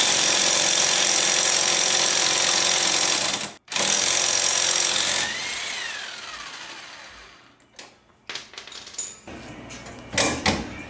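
A loud, steady power tool roars and whines for several seconds undoing rusty bolts on a Lexus LS400, cuts out briefly, then winds down into scattered clanks and rattles.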